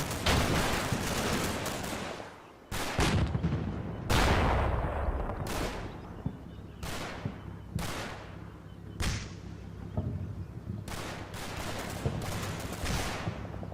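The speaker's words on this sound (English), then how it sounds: "Dude, that 50 cal is chattering over here." A .50 cal machine gun fires in Combat Mission: Battle for Normandy as a string of loud, cracking bursts and single shots with booming tails, irregularly spaced and close, over a low rumble of battlefield ambience.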